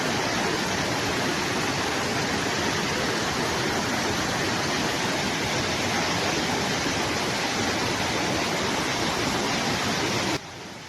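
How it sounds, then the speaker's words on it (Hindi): Waterfall on a mountain trek just below Nauradhar on the route to Churdhar, a steady, loud, close rush of falling water filling the whole stretch without a break and cutting off abruptly at the end. "और ये झरना पड़ता है नौराधार से पहले ही।"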